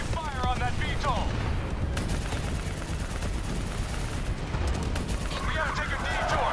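Sustained gunfire and explosions fill a Call of Duty 3 battle against a VTOL and enemy infantry, loud and continuous throughout with sharp bursts, while shouted voices come through near the start and end.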